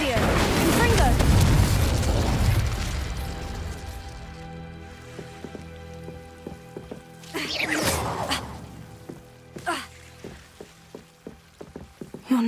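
Confringo fire-blast spell from Hogwarts Legacy: a heavy booming burst up front with a rumbling tail, followed by scattered crackles and sharp debris impacts, loud and close.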